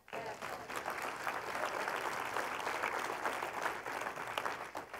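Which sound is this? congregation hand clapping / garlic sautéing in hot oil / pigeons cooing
congregation hand clapping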